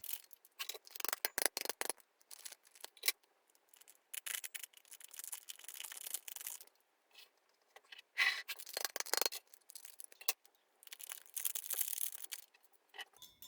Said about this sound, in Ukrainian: Далі відкриваємо кожен з наших пакетиків та засипаємо в свою скляночку.